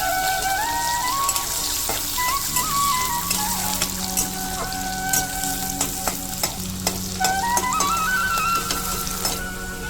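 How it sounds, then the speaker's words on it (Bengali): Steady close sizzling of sliced onions frying in a pan, with occasional scrapes of stirring and a faint tonal whine in the background. "পেঁয়াজগুলো আমি বেরেস্তার মতন হালকা করে ভেজে নেবো"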